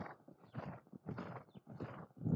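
A horse's hooves pound in a steady rhythm during show jumping training over fences, with muffled, close thuds repeating roughly every half second and no talk.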